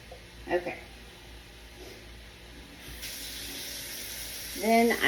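Hot tap water runs into a pot in a kitchen, a steady hissing spray that swells louder toward the end as the flow picks up, with brief clinks and faint speech in the background.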